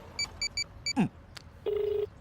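Phone keypad tones: a few quick beeps at first, then a longer steady tone, with a brief clatter between, faint background noise throughout.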